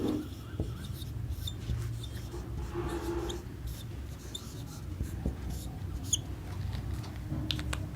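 Chalk or marker scratches and taps across a classroom board in irregular short strokes, faint and close, with a teacher's voice speaking Hindi in between.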